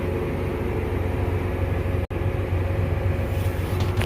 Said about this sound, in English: Truck coming.